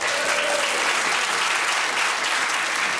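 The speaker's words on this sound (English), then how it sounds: "Don't applaud." Loud, sustained studio audience applause from a panel-show crowd, a dense continuous wash of clapping that fills the whole stretch evenly, with a brief faint voice early on.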